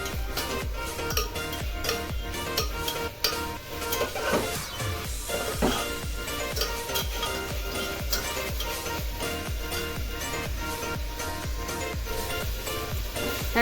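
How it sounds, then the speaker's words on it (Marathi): Finely chopped carrots and capsicum sauté in a pan for veg soybean biryani, with a steady sizzle under frequent light scrapes and taps of a stirring spoon against the pan. "त्या सर्व भाज्या इथे 2 मिनिट परतून मग त्यामध्ये लगेच आपलं हे सोयाबीन आहे ना मसाला लावलेला त्यामध्ये घालायचे."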